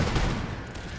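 Line infantry fire a musket volley in the Empire: Total War game, a dense, booming crackle of many overlapping shots rolling together in a brief loud burst, with no voices.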